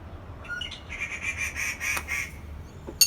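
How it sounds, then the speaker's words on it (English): Birds calling outdoors near a blacksmith's tong-making workshop, a run of repeated squawking, quacking calls with a sharp chirp near the end, moderately loud over low background hum. "I think the birds in the background are also trying to recognize Kim."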